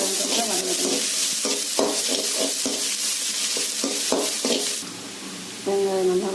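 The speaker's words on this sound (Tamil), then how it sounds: "வெங்காயம் வதக்கணும்." Chopped onions with curry leaves sizzle steadily in a hot pan while a spoon stirs and scrapes in repeated clacks, close and fairly quiet, for a potato stir-fry.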